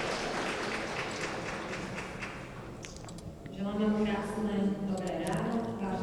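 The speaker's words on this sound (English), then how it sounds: "Yes, you can give a round of applause." A conference audience at the Beyond Green Conference, hosted by AmCham Slovakia, applauds with a dense, sustained patter of clapping for a few seconds before a voice begins speaking.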